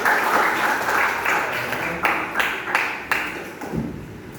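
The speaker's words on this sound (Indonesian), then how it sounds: "Ya, tepuk tangan untuk Rayati." A school class of eighth-graders claps for a classmate in a lesson, a fairly close burst of applause that thins out into a few scattered claps toward the end.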